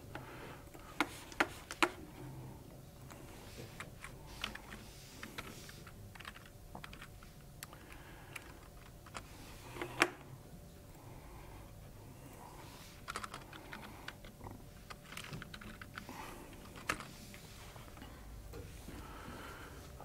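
Code being typed on a computer keyboard, a quiet, close run of irregular clicks and occasional sharper key taps spread across about twenty seconds, with no talking.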